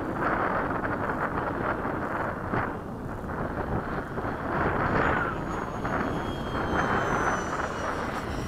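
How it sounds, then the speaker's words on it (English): Piaggio Avanti turboprop aircraft making a low pass over Bayside, a steady loud engine roar sustained throughout with wind buffeting the microphone. "One more pass and I'm landing."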